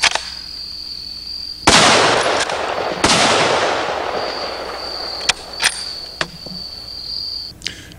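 A Browning A-bolt rifle fires two loud, close shots about a second apart, each with a fading echo. A steady high whine and a few faint clicks follow.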